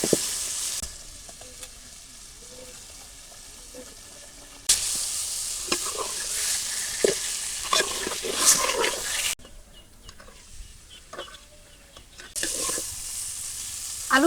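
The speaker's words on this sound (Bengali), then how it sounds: "এবার আমি আলু দিয়ে আর একটু কষাই নিই" Potatoes sautéed in spice masala in a village kitchen, a close, steady sizzle with intermittent stirring scrapes, the loudness shifting in several abrupt stretches.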